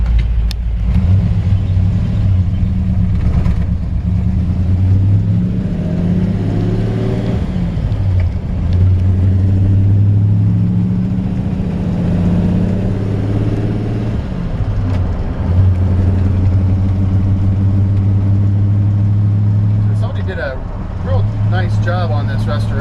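A 1954 Ford F-100 pickup with a Y-block V8, running a little cold, drives off with a deep rumble that rises and falls through gear changes, loud and close inside the cab for the whole stretch, with someone speaking over it.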